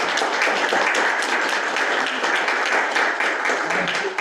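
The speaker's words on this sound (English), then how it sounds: "Could you just please stand up so we give you a round of applause?" People at a school board meeting give teachers a round of applause, a dense, steady clapping that fills the room throughout.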